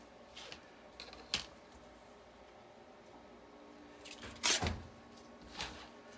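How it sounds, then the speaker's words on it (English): Scissors or a blade cutting paper for journal pockets, with a few sharp snips and crisp rustles scattered over a quiet background, close-up, and a louder crunch near the end, with no speech. "Let's cut the width of this and then we can glue our pockets in."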